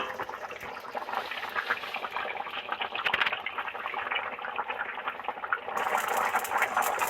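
Egg curry with cauliflower and potatoes bubbling hard in a covered pot, a steady close simmering hiss with a brief louder burst partway through and no talk.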